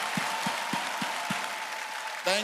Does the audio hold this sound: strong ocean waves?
no